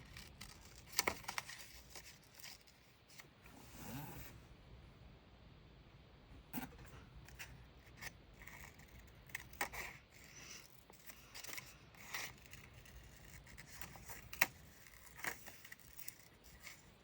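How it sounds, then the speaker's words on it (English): Scissors fussy-cut a paper butterfly out of a page, quiet close snips and crisp paper rustles arriving in irregular bursts with short pauses between. "I'm gonna fussy cut it, just the butterfly"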